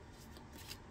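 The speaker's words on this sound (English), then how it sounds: "Let's shuffle it just gently." Tarot cards are shuffled gently, a brief, soft papery riffle and swish heard close but faint against low background hum.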